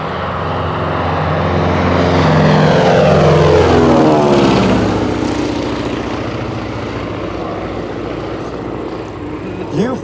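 A Beech C-45H Expeditor, a twin-engine propeller warbird, passes low at an air show, its loud droning engines rising to a peak and sweeping by with a Doppler shift before fading, with crowd noise and a commentator's voice faintly underneath.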